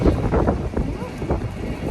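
Strong wind buffets the microphone in a continuous loud rumble and roar, with faint voices underneath.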